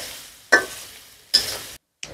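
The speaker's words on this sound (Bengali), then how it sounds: "এখন আমি পেঁয়াজ ফোড়া দিলাম।" Sharp bursts of sizzling as onions hit hot oil, three loud hisses that fade between stirs, close by with no talking.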